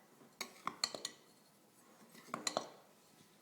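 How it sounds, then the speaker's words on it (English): A utensil stirs vegan, egg-free, soy-free, gluten-free flax pancake batter in a bowl, making soft, irregular clinks and taps against the dish in two quick bursts. "Go ahead and stir all that up."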